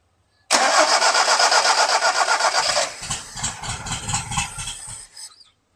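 A 1971 Toyota Celica TA22 barn-find engine cranks and catches on a squirt of fuel, roaring loudly and unevenly for a couple of seconds, then stumbling into a rough, sputtering idle before cutting out.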